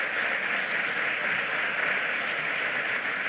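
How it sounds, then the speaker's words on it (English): An audience applauds at a civic event, a steady, dense wash of clapping from many hands held at an even level for the whole stretch, with no voices. "a round of applause."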